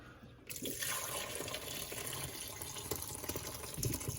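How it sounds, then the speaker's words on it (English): Meat juices start pouring into a fat separator after a brief pause, a steady close trickling splash that continues to the end, fairly quiet. "I'm just going to pull this out and try and pour it into the separator."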